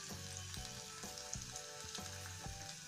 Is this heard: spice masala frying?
yes